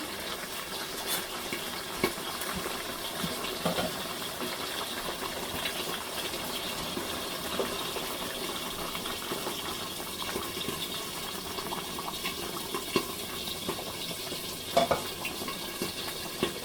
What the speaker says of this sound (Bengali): একটু গরম পানি দিয়ে দেবো, ফুটানো আছে